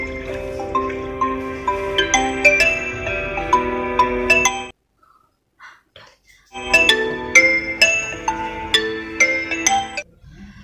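A phone plays a bright melodic ringtone while a call goes through. The tune runs for several seconds, breaks off into near silence with faint small noises, then starts over just as loud.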